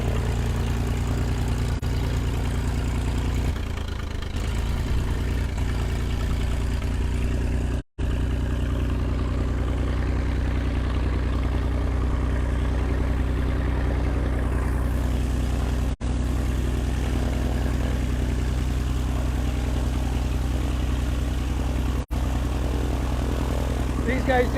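A steady, droning propeller engine of an O-1 Bird Dog light aircraft runs continuously close by, a low rumbling hum that holds level throughout with a few brief dropouts.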